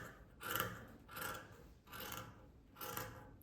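Scissors snip through fabric pieces for a kurti in four distinct, evenly spaced crisp cuts, close and fairly quiet, with no voices.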